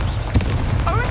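A fire spell, Incendio, cast in the Hogwarts Legacy video game: one short, loud whooshing boom bursts out early and fades over a low rumbling game background.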